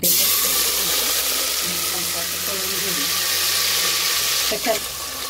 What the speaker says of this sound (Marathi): आपलं पनीर पण तळून झालंय।